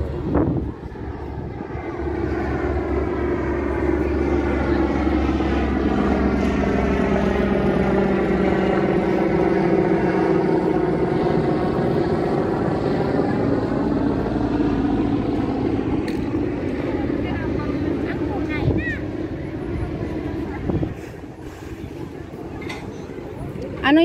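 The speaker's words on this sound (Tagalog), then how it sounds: "Ayun o, may helicopter." A helicopter passes overhead near Admiralty and Causeway Bay in Hong Kong, a loud steady engine drone with a pulsing rotor hum that swells and fades slowly over about twenty seconds, with people talking nearby.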